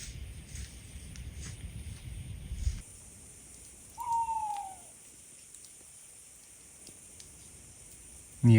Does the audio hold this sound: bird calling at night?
yes